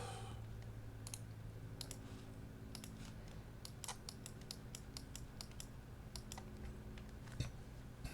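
Quick ripples of Lord of the Rings card game cards being shuffled close by, with repeated crisp riffles and light clicks over a low steady hum, no voices.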